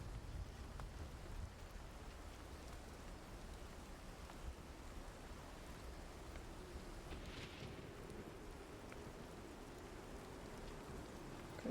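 Steady rain ambiance plays as a continuous, even hiss of falling rain during a tabletop game session, with no talk over it.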